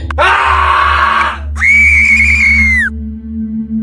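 A loud, sustained scream sound effect from a horror story cries out in two long wails, the second higher and steadier, over a low droning background hum.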